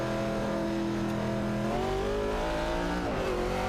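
A Ford Mustang Boss and a Ford Falcon race car roar continuously in a racing video game. Engine tones rise and fall as the cars shift, loud and steady throughout, with no talking.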